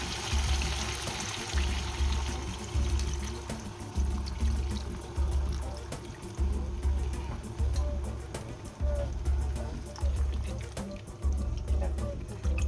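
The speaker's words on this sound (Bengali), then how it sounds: "দেখো আমি কতটা জল ঢালছি।" Water is poured from a steel mug into chicken curry cooking in a pan, giving a sloshing, gurgling pour with a pulsing rhythm that stays close and fairly loud throughout.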